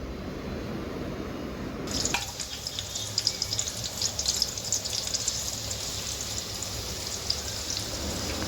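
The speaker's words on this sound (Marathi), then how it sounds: "जो बारीक फ्राय करण्याचा जो ऑनियन मी कापलेला होता तो मी आता पूर्ण त्या तेलामध्ये सोडून घेणार आहे" Finely chopped onion for chicken biryani drops into hot oil and starts a sudden dense sizzle, a steady crackling hiss full of rapid pops that keeps going close by.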